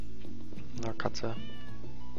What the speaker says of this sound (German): Na, Katze.